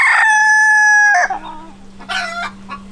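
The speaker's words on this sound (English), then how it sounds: "we still have our red mottled single comb rooster over here" A red mottled single comb rooster crows loudly and close by in a breeding flock, one long sustained call trailing off into shorter clucking notes.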